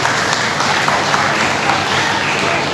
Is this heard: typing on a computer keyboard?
no